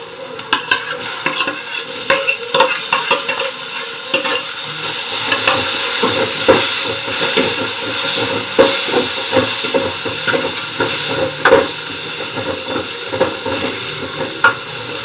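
Leftover rice being stir-fried in a tempering (oggarane) in a pan: a spatula scrapes and stirs in a steady, busy rhythm over a continuous oily sizzle, close and fairly loud, with no talking.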